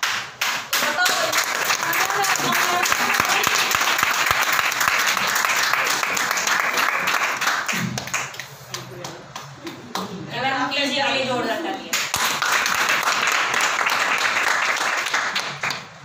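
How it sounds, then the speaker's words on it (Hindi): Loud, sustained clapping from an audience seated at a weekly Intergold business meeting fills most of the stretch. It eases briefly midway while a voice speaks, then swells back to full strength. "आज जितने भी पर्सन्स यहाँ पर बैठे हैं इन सब के लिए जोरदार तालियां"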